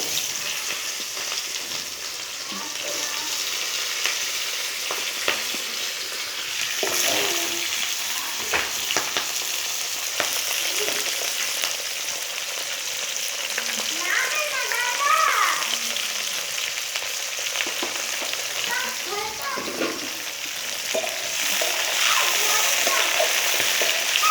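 Cut potatoes and radish hiss and sizzle in hot oil with dried chillies, with scraping stirs and splatters throughout a steady, fairly loud frying bed; a faint voice is heard in places.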